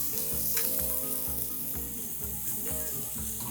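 Onion sizzling steadily in a hot pan, a dense continuous frying hiss with faint stirring scrapes, close and even throughout.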